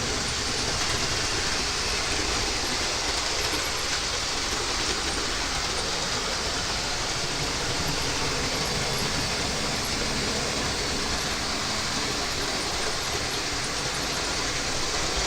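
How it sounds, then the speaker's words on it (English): A continuous, loud rumbling roar with rattling and hiss, like a steam train passing close by, steady for the whole stretch with no talking. "Steam train's coming again."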